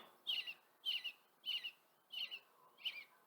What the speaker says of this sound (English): And that's the sound that robins make.